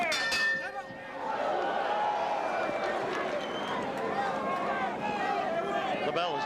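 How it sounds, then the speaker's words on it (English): A boxing ring bell clangs briefly to open round 5 of the 1979 Sugar Ray Leonard vs Wilfred Benitez fight, quickly swallowed by a loud, continuous arena crowd roar. "The bell has just sounded for round 5."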